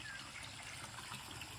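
Water pours steadily into a resort swimming pool being refilled, making a faint, continuous wash and hiss with no other sounds.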